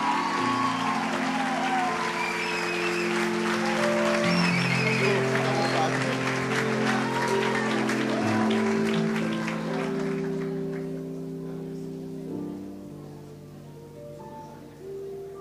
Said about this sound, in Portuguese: com muita alegria, uma salva de palmas